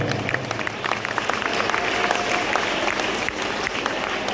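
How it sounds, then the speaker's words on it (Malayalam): A crowd at an award ceremony claps steadily and continuously for several seconds, a dense even patter of many hands with no voices on top. "നല്ലൊരു കൈയടി കൊടുക്കാം"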